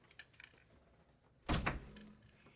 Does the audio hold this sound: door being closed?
yes